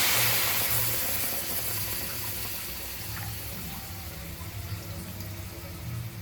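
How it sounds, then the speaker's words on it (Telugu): Water is poured into a pan of mixed masala for a sea crab fry, a steady close wash of liquid that slowly eases off without any talk. "ఇప్పుడైతే మనం ఇందులో కొంచెం వాటర్ పోసుకున్నాము"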